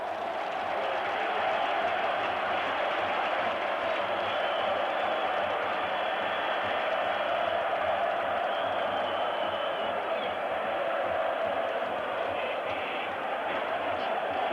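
A large stadium crowd roars continuously through a 1984 Roma vs Dundee football match in Rome, a dense, loud wall of cheering that holds steady throughout with no pauses.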